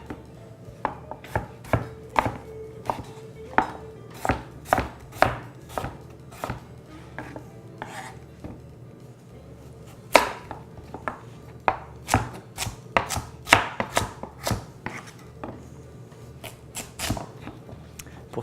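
A knife chopping vegetables for a simmered stew on a cutting board, sharp irregular taps arriving in quick bursts with short pauses between, close and crisp against a quiet kitchen background.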